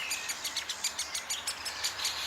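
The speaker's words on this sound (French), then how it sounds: "Intrigué par cette vibration sonore, je lève la tête et j'aperçois tout là-haut un oiseau noir et blanc au bas-ventre rouge vif, le pic-et-pêche." A great spotted woodpecker, black and white with a bright red underbelly, in a forest near a château in Côtes d'Armor, gives a run of short, sharp, evenly spaced calls high above, repeated about every quarter second.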